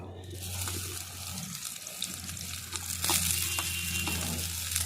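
Chopped onions hit hot oil in a heated wok and fry with a steady, broadband sizzle, close and fairly loud, swelling slightly toward the end, with a low hum beneath and no talking.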